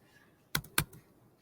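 Two quick, crisp keystrokes on a computer keyboard, close and fairly quiet, with near silence around them.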